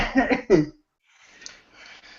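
A few harsh coughs close to the mic in quick succession, then quiet breathy noise.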